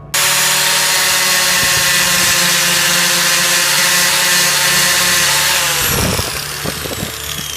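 An angle grinder cuts into rusted metal, opening up small rust pinholes on a Futuro House under restoration; a loud, steady high-pitched whine runs throughout, with the disc note shifting near the end as the cut changes.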